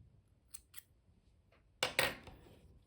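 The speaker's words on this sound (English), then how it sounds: "And now you can just cut your yarn," Scissors snip through yarn while a small crocheted teddy bear is being made, a few faint light clicks and then two sharp, close cuts near the end.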